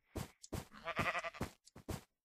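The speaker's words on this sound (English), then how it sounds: "Oh, it's a sheep. Curse you, sheep." A Minecraft sheep bleats several times in quick, close, wavering cries, separated by short gaps of silence.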